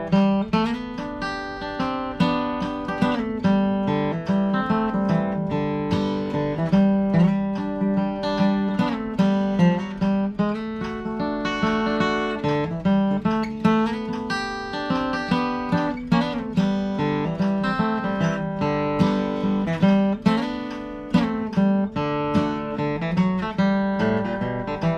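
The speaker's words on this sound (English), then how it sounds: "my kickoff would be stating the melody with a little bit of decoration and a little bit of self-accompaniment" A bluegrass kickoff in G plays the decorated melody with self-accompaniment on a plucked string instrument, a steady, bright, close solo line running throughout.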